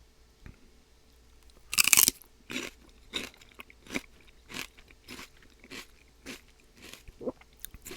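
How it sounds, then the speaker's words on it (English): Crisp celery crunches in a close-up keto mukbang, eaten with chili garlic sauce: a loud first bite, then about a dozen rhythmic chewing crunches at a steady pace, with no talking. "let me get some more celery here"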